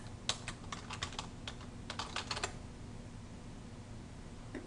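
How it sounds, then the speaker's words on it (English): Fast bursts of keystrokes on a computer keyboard, clicks clustered in quick runs for about two seconds, then a quiet stretch with one final key press. "Then I want you to type in Alexander Lee Samaras."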